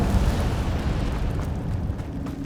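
Incendio fire spell cast in the Hogwarts Legacy video game, heard as a steady, loud roaring whoosh of flame that fills the whole moment without a break, dense and rumbling with no talk over it.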